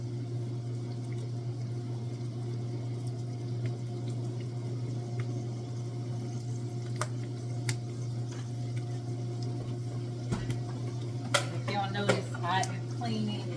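Dishes and kitchen items are put away during cooking, with faint clinks and clatters over a steady background hum and some running water. A person talks quietly during it.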